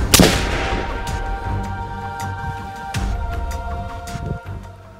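A single loud rifle shot from a Palmetto State Armory AR pistol with a 10.5-inch barrel, firing 60-grain VMAX rounds loaded with Varget powder, cracks sharply at the start, then a long outdoor echo and rumble trail off.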